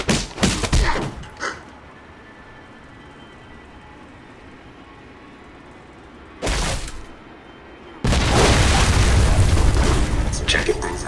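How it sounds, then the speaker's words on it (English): Loud booming video game explosions in Alpha Protocol, a short burst at the start, another after a quiet stretch, then a sustained roaring rumble of explosions to the end. "explosions."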